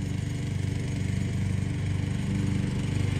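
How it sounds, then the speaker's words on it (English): A lawn mower runs steadily nearby at a home building site, its engine throbbing in a continuous, fairly loud drone with no talking. "Okay, Jordan is mowing, so I hope that y'all can hear me"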